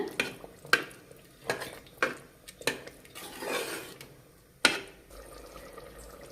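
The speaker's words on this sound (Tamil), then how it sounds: "இப்போங்க அரிசியை போட்டுட்டு நல்லா கிளறி விட்டுருங்க." Soaked rice being stirred in a pot for a cooker-style coriander vegetable biryani: sharp spoon-on-metal knocks and clinks at irregular intervals with a soft wet swish in between, close up.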